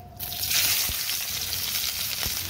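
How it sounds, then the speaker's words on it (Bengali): Onions and chillies fry in hot oil with a loud, hissing sizzle that surges as they hit the pan, then settles into a steady crackle with a couple of faint knocks. "পেঁয়াজ লঙ্কা ভালো করে ভেজে নেব"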